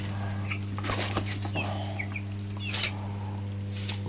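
Broiler chickens clucking while being weighed on a farm: scattered short clucks and soft squawks from several birds nearby, set over a steady low electrical hum.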